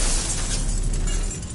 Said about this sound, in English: And a massive explosion, that sounds about right